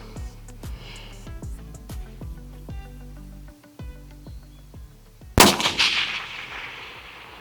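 A long range rifle shot rings out with a loud sharp crack near the end, following a string of rhythmic mechanical clicks, with a lingering echo trailing off afterward.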